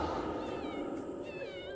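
Cats meowing in The Sims 4, rising and wavering meows over a loud, steady background, heard briefly and close.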